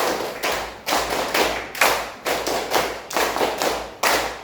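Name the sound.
students doing rhythmic clapping game, clap three two times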